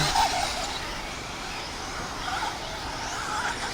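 A Tekno RC ET410.2 radio-controlled car racing around a dirt track, its thin high motor whine steady and fairly loud close by, with a brief squeal near the start.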